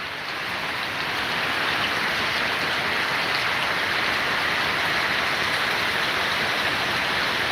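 Monsoon rain pouring down steadily, a dense, even hiss of countless drops on surfaces that stays loud and unbroken throughout, with no voices.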